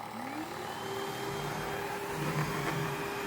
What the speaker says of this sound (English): we're gonna turn on our vacuum.